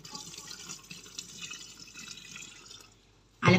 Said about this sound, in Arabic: فهنحط ميه الليمون